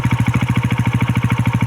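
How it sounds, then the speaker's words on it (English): A modified KTM 690 Enduro R single-cylinder motorcycle engine idling, with a steady, even thumping pulse about twelve beats per second and a light popping character, close and alone. "It's just idle. It's got a nice little idling"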